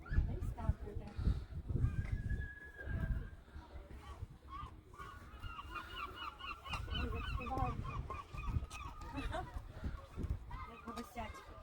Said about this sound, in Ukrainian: чайки.